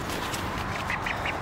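A duck gives a series of four soft quacks in quick succession over steady broadband background noise, with no talking.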